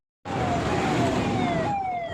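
An ambulance siren wails in congested traffic on a pothole-ridden road, starting abruptly and sounding loud and close, its tone sweeping and shifting pitch partway through, alone with no voices.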